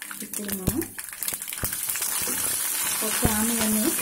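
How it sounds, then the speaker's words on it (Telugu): Upma tempering with curry leaves crackles in hot oil in a steady, close sizzle with scattered pops and stirring, while a voice briefly speaks over it. "పోపు వేస్తుంది కదా, ఇది చప్పట్లు ఆడుతుంది."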